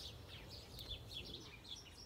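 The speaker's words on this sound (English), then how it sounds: "But my birds are going crazy." Pet birds chirp excitedly, a busy run of quick high tweets and short calls repeating over a low background rumble, fairly faint and continuous.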